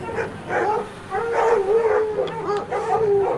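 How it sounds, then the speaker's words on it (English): Dogs howl and yelp in drawn-out, wavering cries, several overlapping calls rising and falling, fairly close and loud. "Animals are barking furiously at the green that has invaded their territory."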